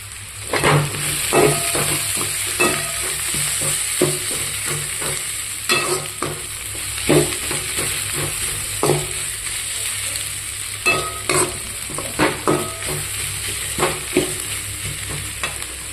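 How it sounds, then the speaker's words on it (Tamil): Onions fry in oil for spicy chicken, a constant close sizzle broken by repeated scraping strokes of a stirring spoon at an uneven rhythm, with no talk. "பார்த்தீங்கன்னா நல்லா ஆனியன் வதங்கிருக்கு."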